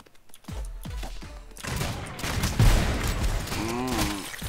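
Rapid bursts of bullets are fired in the video game ROUNDS. The shots start as a few sharp separate blasts, then roll into a loud, dense stretch of continuous gunfire with whooshing effects.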